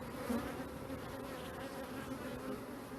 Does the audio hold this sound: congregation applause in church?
no